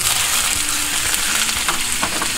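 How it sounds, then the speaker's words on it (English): Pork searing in hot oil inside a Lodge Cook It All cast iron pot, a loud steady sizzle and crackle with faint stirring scrapes, heard close up with no talking. "we're gonna use it to sear the pork, to sear in the flavor"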